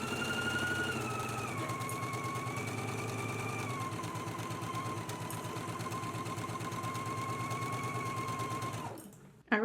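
A sewing machine runs a steady continuous stitch along the center seam of a girls' and misses' dress, loud and close with a rapid mechanical rhythm, stopping abruptly near the end.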